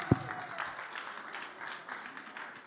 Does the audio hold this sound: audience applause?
yes